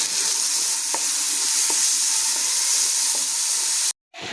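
Chopped onions fry and are stirred in a pan, giving a steady, loud sizzle with a few faint clicks of stirring. The sound cuts out for a moment near the end, then returns.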